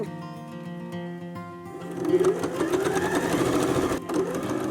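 A sewing machine reverse stitches felt to finish a seam on a felt needle book, its motor whirring steadily close up, rising in pace and loudness partway through.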